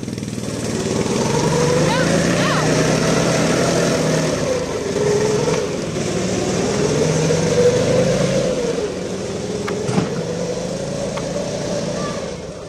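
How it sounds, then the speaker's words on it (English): A snowmobile engine revs steadily while the rider pulls away, the pitch rising and falling in long swells over nearly thirteen seconds, with people talking over it. "There it goes, Regan Boyer. First time on a snowmobile."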